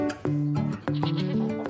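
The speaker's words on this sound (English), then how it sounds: "Colin and Paul specialise in raising Saanen goats, a breed known for high milk production." Saanen goats, a dairy breed kept for high milk production, bleat at an agricultural show: a few loud, close, wavering calls overlapping one another with no talk.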